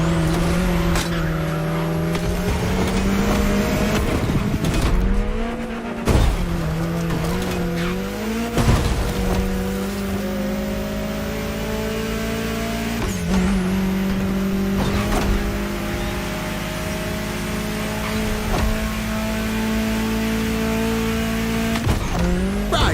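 A car cruising through the state capital in The Crew Motorfest racing game, with a steady, loud engine drone that rises and falls through gear shifts and bursts of acceleration, running alone without any voices.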